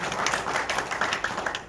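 Brief applause from a congregation at a church seminar, a steady wash of many hands clapping, moderately loud and unbroken for under two seconds.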